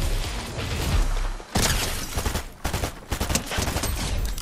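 Gunfire from a weapon in Fortnite, loud close bursts of rapid shots separated by brief gaps, several sharp volleys in quick succession with no talking.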